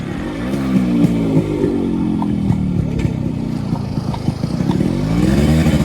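A completely restored Yamaha RX 100 motorcycle engine running close by, a loud, throbbing two-stroke idle with small blips of revving and light mechanical clatter.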